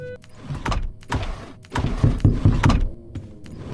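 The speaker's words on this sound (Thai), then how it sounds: "เสียงใครเคาะประตูเมื่อกี้" Someone knocks on a door in the video game Doors. The knocks come as a series of solid thuds, loose and irregular, with a louder cluster near the middle, all fairly close.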